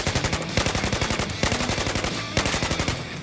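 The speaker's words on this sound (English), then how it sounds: "and with a bit of burst fire" M416 assault rifle in Battlefield 4 firing in quick bursts, three loud clusters of rapid shots separated by short pauses, close and punchy, with no talking.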